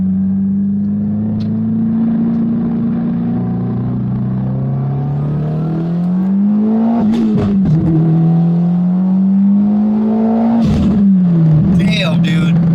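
A 600 hp 2022 Subaru WRX fitted with a Cobb full 3-inch exhaust revs loudly up close, its engine note climbing and falling through repeated pulls with a deep rumbling drone, and people talk over it.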